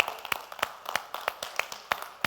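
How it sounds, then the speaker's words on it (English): Sparse clapping in a steady rhythm, a few sharp claps per second, close by and without cheering. "Big round of applause for Deepak Sahu."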